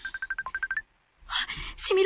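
A mobile phone rings with an incoming call, a rapid series of short repeated electronic beeps lasting under a second, followed by a pause and then a voice speaking.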